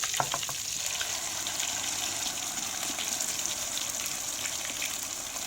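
Tomato and onion puree sizzles and hisses steadily in a hot kadhai while beef paya is cooked, with a few clinks at the start.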